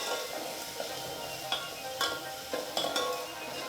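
Ginger, garlic and chilli paste sautéing in a pan on medium flame, with a soft continuous sizzle broken by a few sharp spoon scrapes and clinks against the pan, close and fairly quiet with no talking.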